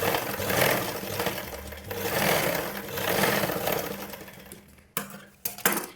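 A sewing machine stitches along the edge of a blouse lining, a steady mechanical whir with faint rattling throughout, ending in a few short sharp bursts as stitching stops and starts.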